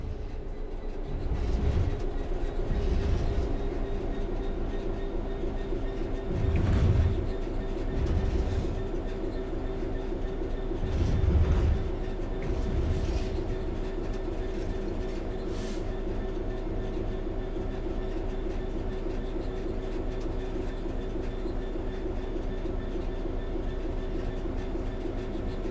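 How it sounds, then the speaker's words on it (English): A train coasting on level track in Train Sim World 3, with a steady low rolling rumble and periodic heavier wheel thumps over rail joints, continuous and close from start to finish. "The train will then coast on level ground, and the train will only slow down very gradually."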